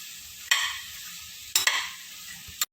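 Vegetables and flattened rice (poha) sautéed in a pan for a vegetable biryani: three sharp scraping stirs, each followed by a soft sizzle fading under a low background hum.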